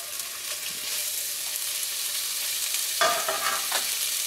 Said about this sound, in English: let's go ahead and we'll throw our sausage in there